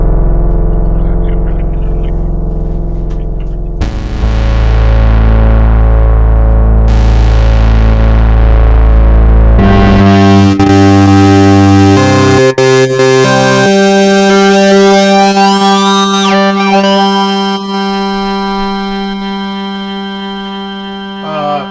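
Loud electronic synthesizer tones with swooping pitch sweeps, distortion and shifting sustained notes, played alone without any talking.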